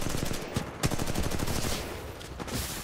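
Rapid weapon fire in the first-person shooter Titanfall 2 comes as a loud, close stream of gunshots with a few short bursts and brief gaps.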